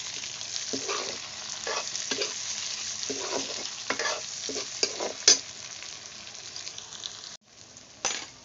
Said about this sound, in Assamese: বিলাহীখিনি মই এতিয়া ধুনীয়াকৈ ভাজি ল'ম